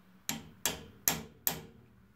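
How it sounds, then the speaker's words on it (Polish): Four light, sharp metallic taps of a small hammer on pliers pressed against a stuck radiator thermostatic valve, evenly spaced, each ringing briefly in a quiet room. "możemy spróbować docisnąć w ten sposób na przykład kombinerki, o tutaj, i lekko młoteczkiem"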